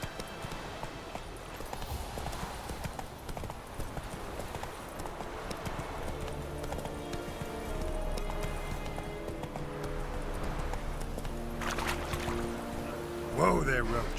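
Hooves of the horse Roach clip-clopping at a gallop in the video game The Witcher 3, a rapid rhythmic patter under game ambience and a voice that comes in near the end.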